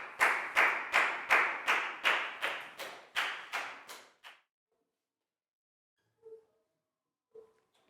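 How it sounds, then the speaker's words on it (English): Classmates in a primary school maths lesson clap for a pupil: a short run of about a dozen close, evenly spaced hand claps that fade out after four seconds, followed by a couple of faint thumps. "big round of applause for Pat"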